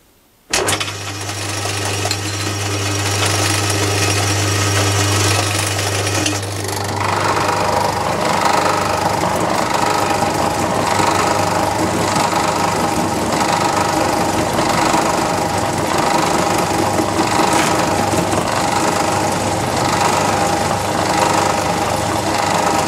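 A milling cutter cuts metal on a Myford lathe, a steady loud machining roar with rattling knock that starts abruptly after a short hum and continues unbroken, with no talking.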